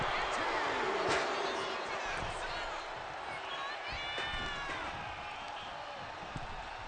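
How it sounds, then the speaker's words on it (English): A capacity crowd in a wrestling arena boos the World Tag Team Champions, a loud, steady roar filling the space, with a few sharp slams and thuds cutting through. "This capacity crowd is booing"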